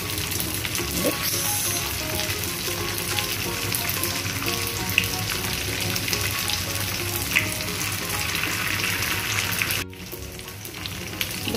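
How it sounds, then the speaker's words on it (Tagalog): Vegetable spring rolls (lumpiang gulay) fry in hot oil in a pan, giving a loud, steady, close sizzle and crackle throughout with a brief dip near the end. "Ngayon naman, ipiprito na natin siya."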